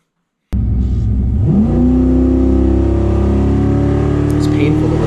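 A boosted car with a much-too-tight torque converter roars to life on a chip dyno, the engine climbing into a loud, sustained high-rpm drone with heavy low rumble and no break.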